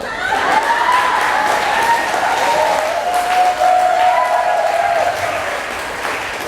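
Church audience applauding at a Saturday group gathering of the Hong Kong Mission, a steady wash of clapping with scattered voices and laughter mixed in, sustained at even loudness throughout.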